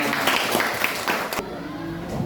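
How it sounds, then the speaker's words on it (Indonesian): A class of schoolchildren clapping together in a classroom, a brief burst of dense hand claps that stops abruptly after about a second and a half, leaving quiet room tone. "Tepuk tangan semuanya."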